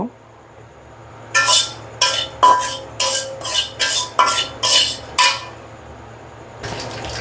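A wok used earlier for frying fish is set on a gas stove, giving about eight sharp metallic clanks and scrapes in a quick irregular run, close and fairly loud over a low steady hum, then a brief rustle.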